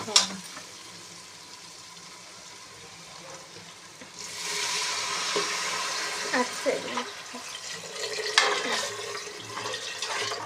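Water is poured into a pot of sizzling prawns for biryani, a rushing splash that rises loudly after a quieter stretch of frying, with someone speaking over it.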